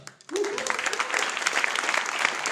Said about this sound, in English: big applause to all the people standing behind all this mess, our monthly meetup